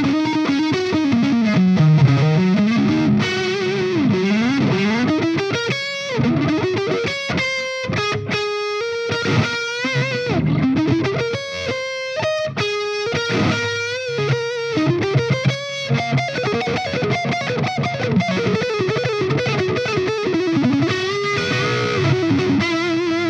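A 1990s Japanese-made Washburn N4 Nuno Bettencourt signature electric guitar with a '59 pickup plays through heavy distortion, mixing chugging riffs, sliding bends and fast runs in a loud, continuous, up-close passage.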